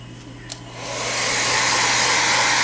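Hair dryer blowing on a model rolling stock car, switching on after a faint click and rising to a loud, steady, close rushing hiss that keeps going without a break.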